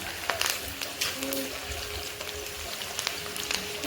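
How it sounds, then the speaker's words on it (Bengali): Onions and bay leaf frying in a pan, a soft steady sizzle with occasional light clicks of stirring, under quiet speech. "এতিয়া পিঁয়াজখিনি দি ল'লোঁ আৰু তেজপাত ফেলা পিঁয়াজখিনি অকণমান সময় ভাজি ল'ম"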